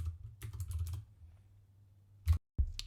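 Brisk bursts of keystrokes on a computer keyboard rattle in the opening second, then a pause and two louder clacks near the end, close and clear with no talking.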